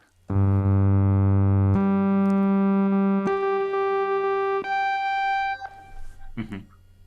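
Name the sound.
analog synthesizer sawtooth wave, brassy tone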